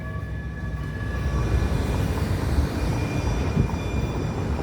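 A westbound train rolls along the track at the Trade and Tryon intersection, a steady, loud rumble with faint high whine that holds evenly throughout, with no voices.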